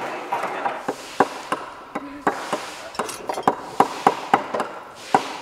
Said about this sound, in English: we're gonna hammer the nails in after that